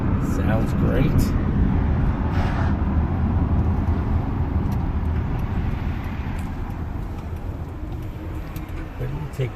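A 2013 Mercedes Sprinter van cruises down the road with a steady, loud rumble of engine, tire and wind noise filling the whole stretch, while voices talk faintly inside the cabin.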